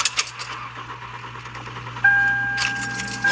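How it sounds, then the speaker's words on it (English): A car engine at a Dairy Queen lot in blizzard conditions cranks after some rattling and catches about two seconds in, settling into a steady running tone at close range. "Let's listen and see if this engine will start."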